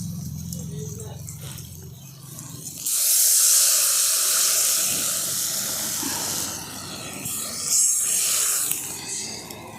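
Water poured into a pan of lightly fried potatoes bursts into a loud hissing sizzle that fades and then flares again, with someone speaking Bengali before and over it.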